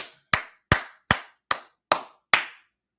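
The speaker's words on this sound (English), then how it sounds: "Let's clap it up." Seven crisp, evenly spaced hand claps, each sharp and close with a short decay into silence, loud and alone with no talking.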